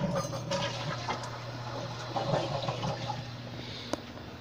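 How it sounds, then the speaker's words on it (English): A toilet flushes in a home bathroom, with a steady rush of running water and refilling that continues throughout at moderate loudness, and a faint click near the end. "And so this is a toilet seat. Listen."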